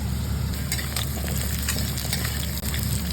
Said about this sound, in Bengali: কেটে রাখা আলুগুলো ভাজা ভাজা হয়ে গেছে, দিয়ে দেবো কেটে রাখা কুমড়ো।